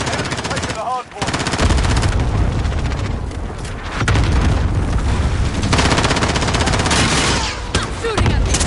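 Dense, loud gunfire in a PS4 shooter game, continuous machine-gun bursts and heavy booms packed together with barely a pause, a brief dip near the start, and a few game voice lines mixed in.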